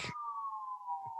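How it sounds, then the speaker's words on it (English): A single steady New York City siren tone drones on, slowly sliding down in pitch, with brief bursts of background noise at the start and end. "you can hear the sirens of New York in the background"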